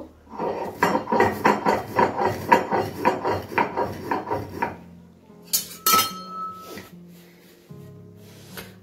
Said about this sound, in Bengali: শুকনো খোলায় টেলে নেওয়ার পরে এটাকে একটু গুঁড়ো করে নেব।